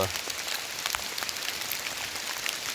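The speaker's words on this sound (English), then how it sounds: "the raindrops hitting these trees around me" Steady rain patters on leaves and branches all around, a dense crackle of drops with occasional louder splats, close and continuous.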